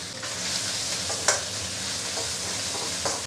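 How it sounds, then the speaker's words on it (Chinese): Meat stir-fries in a wok over high heat, giving a constant loud, hissing sizzle with a couple of sharp clacks from the spatula against the pan. "先来炒肉啊"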